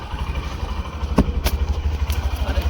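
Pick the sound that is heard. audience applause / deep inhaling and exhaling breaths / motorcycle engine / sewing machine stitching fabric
motorcycle engine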